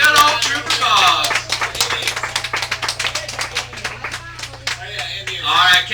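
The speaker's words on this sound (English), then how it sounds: "how about a big round of applause for our Cowboys, the Tweetsie Tribe, and good old Trooper Bob" Outdoor crowd clapping for the cowboy performers on the last train ride of the day at Tweetsie Railroad, crisp, rapid hand claps close by with a voice briefly heard at the start and end.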